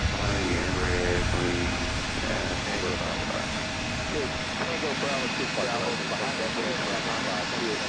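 A Horizon Air plane on the Anchorage flight at Portland International Airport, a steady, loud, broad jet engine roar that fills the whole stretch without letting up.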